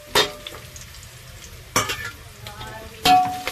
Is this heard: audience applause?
no